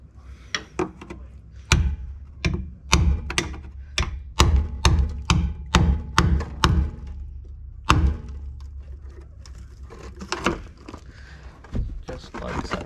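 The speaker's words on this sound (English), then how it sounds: "chisel the head off them" Sharp metallic strikes ring out as a chisel knocks the heads off stuck screws during a vehicle restoration, a quick irregular run of close, loud hits followed by a few scattered ones.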